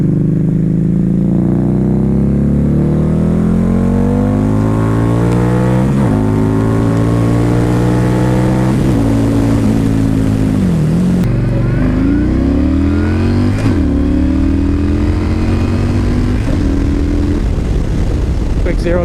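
Harley-Davidson V-Rod and Yamaha Stryker, both liquid-cooled cruiser motorcycles, accelerating hard from 0 to 60 mph, engines climbing through repeated gear-shift sweeps, loud and close throughout.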